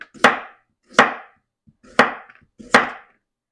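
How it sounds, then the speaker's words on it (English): A knife slices vegetables on a cutting board for a ground beef vegetable casserole, with four evenly spaced, crisp, close chopping knocks and no talking. "I'm just going to keep slicing and putting these over my ground beef"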